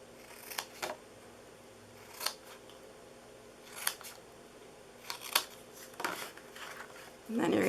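Scissors cutting the paper sides of a gift box: several crisp, close snips spaced about a second apart, with a louder rustle of paper at the end.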